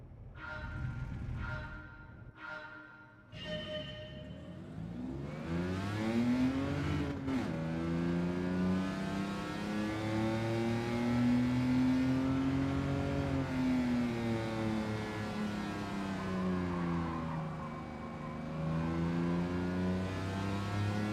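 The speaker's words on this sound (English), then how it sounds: "I've just blipped the throttle again" A racing car in a racing game takes a few quick throttle blips, sharp short revs, then the engine settles into a long sustained drone that rises and falls steadily, loud and close.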